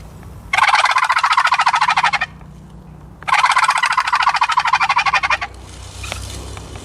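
A wooden box turkey call is stroked to mimic a gobble, two loud rapid rattling bursts about two seconds each, separated by a short pause, close to the microphone with no voices.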